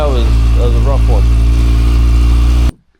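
Kawasaki motorcycle on its stock exhaust starts and runs with a loud, steady low idle rumble, a voice breaking in briefly early on, before the sound cuts off abruptly near the end.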